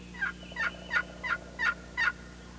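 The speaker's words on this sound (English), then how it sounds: "This is a plain yelp on a caller." A plain yelp on a turkey caller, six evenly spaced raspy notes in a steady rhythm, clear and close with no talking over them.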